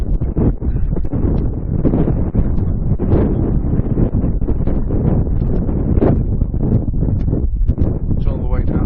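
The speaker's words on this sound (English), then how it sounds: "Hope you can hear me, it's very windy." Strong gusting wind buffets the microphone on a hill walk up Great Whernside and Buckden Pike in the Yorkshire Dales, a loud, continuous roaring rumble that rises and falls throughout and largely buries a speaking voice.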